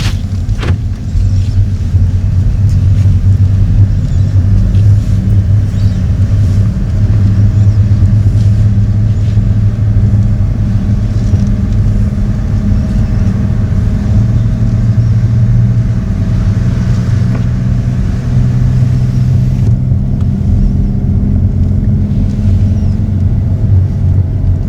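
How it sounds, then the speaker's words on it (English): Car engine labouring up a steep park road at about 25 mph, a loud continuous low droning rumble with steady load and a slight shift in pitch near the end, no voices. "Princess is having trouble climbing the hill. She can do it. I just need to. It wants to rev."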